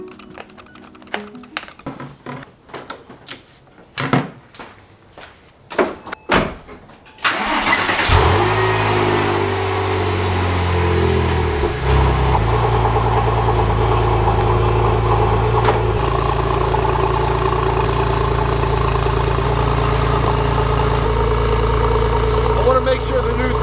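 A Porsche 911 Turbo fitted with a new throttle body cranks over after some clicking and handling noises, catches, and settles into a steady, loud, close idle that runs for the rest of the clip.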